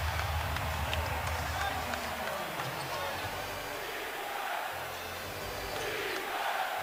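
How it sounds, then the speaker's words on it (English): Crowd noise fills an NBA arena during a Knicks–Celtics game as fans chant for defense, a steady roar beneath a commentator calling the play. "Crowd been chanting defense all night long."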